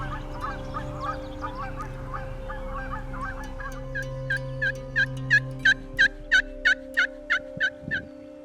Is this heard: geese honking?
yes